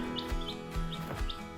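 Baby chicks in a backyard brooder chirp in a few short, bright peeps spaced across a brief moment, close by over a low steady background hum.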